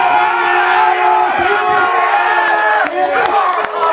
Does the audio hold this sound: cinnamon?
no